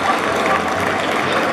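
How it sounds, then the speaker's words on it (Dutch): Applause from the audience at a 2019 Mechelen dog show rises as puppies leave the ring, a loud, dense, continuous patter of clapping. "En een applaus voor onze andere mooie puppies die de ring verlaten."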